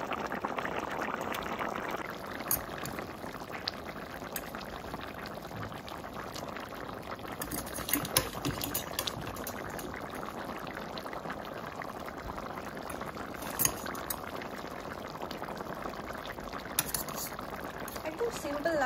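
Water is added to a pot of fish curry with vegetables, which then simmers with a steady, continuous bubbling and sloshing that runs throughout at moderate level, with occasional small knocks.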